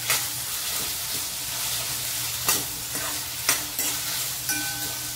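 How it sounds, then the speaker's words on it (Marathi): Chopped onion sautéing in a pan for chilli paneer gives a steady close sizzle with occasional sharp clinks of a spatula scraping and stirring. "कांदा थोडा रंग बदलेपर्यंत आपल्याला परतून घ्यायचा आहे, जास्त गुलाबी करायचं नाही आहे।"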